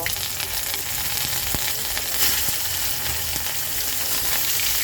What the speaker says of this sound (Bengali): এখন আমি ফুলকপিটা ভেজে নেব